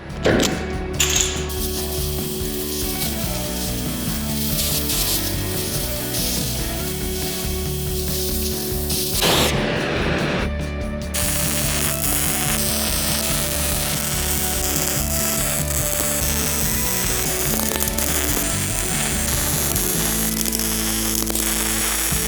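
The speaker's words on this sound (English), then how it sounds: "that was my last weld bead" A steady, crackling buzz of a welder laying a bead on a farm truck axle, continuous and close, with a short break near the middle before the harsh hiss resumes.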